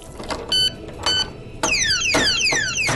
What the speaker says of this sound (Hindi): इसका 110 डीबी का यह अलार्म पानी के अंदर भी काम करता है।